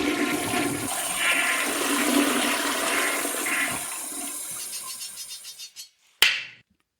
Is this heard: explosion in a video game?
no